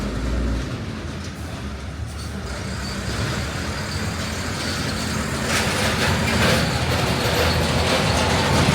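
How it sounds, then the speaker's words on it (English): Heavy trucks roll past on a dusty road in rural Laos, a steady loud rumble of engines and tyres that swells toward the end as the vehicles pass close, with no talking. "there's more and more trucks coming through"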